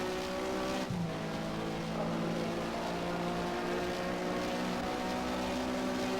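A Porsche Mobil 1 Super Cup race car in Race07 at the Catalunya circuit in Spain holds full throttle, its engine a steady loud high-pitched drone with a brief gear-change dip near the start before climbing again.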